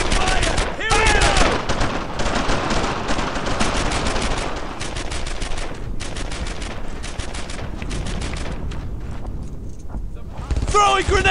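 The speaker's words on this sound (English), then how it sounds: "Covering fire!" Gunfire in the Brothers in Arms: Earned in Blood video game, with dense bursts of rifle and machine-gun shots crackling almost continuously, loud and close, while soldiers shout over the din.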